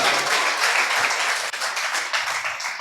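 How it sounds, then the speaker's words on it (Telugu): A church congregation at Sunday worship claps loudly and continuously, a dense crowd of hands forming a steady wash of applause with no break. "చప్పట్లు కొట్టండి గట్టిగా."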